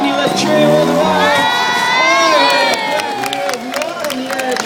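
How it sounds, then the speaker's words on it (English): A crowd cheers and whoops at a motocross show at the Easter Royal Show in Sydney, with many excited children's shouts rising in pitch, loud and sustained, then easing slightly toward the end. "make some noise, Sydney. Let's cheer him all the way."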